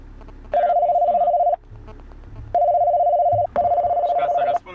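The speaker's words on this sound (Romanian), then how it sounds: "Acum voi încerca să sun ca să vedeți cum se aude în momentul în care te sună cineva." BMW 730d E65 car phone ringing on an incoming call: a steady electronic ring tone sounds in three bursts, each about a second long, clear and close, with faint background noise between them.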